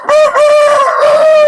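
A chicken at a coop, from a flock sick with a respiratory illness, gives a loud, close, drawn-out crowing call that rises and holds steady for over a second, alone without talk.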